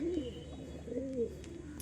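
Seven active pigeons, two hens and five cocks including Kalanka, Phulsira and Punjabi breeds, coo in soft, repeated throaty rolls close by, the calls rising and falling over a low hum with no talking.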